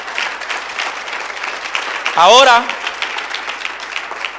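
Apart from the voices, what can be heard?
church congregation applauding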